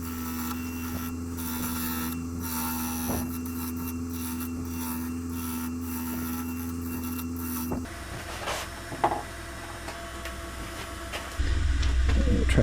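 Wood lathe spinning a curly-grained bowl under a Rockler detail carbide tool, a steady motor hum with light scraping, then the tone drops as the lathe slows and a louder low rumble rises at the end.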